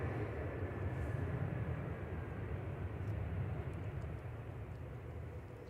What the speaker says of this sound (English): A321-200 EC MQB, flight 8746.